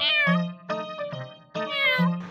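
A cat meows several times in quick succession, clear and close, with drawn-out, rising and falling cries and short gaps between them.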